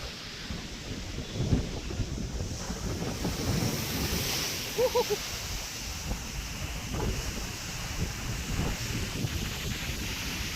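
Steady roar of ocean surf at Yarada Beach, Visakhapatnam, driven by strong, gusty cyclone winds buffeting the microphone, with no voices throughout.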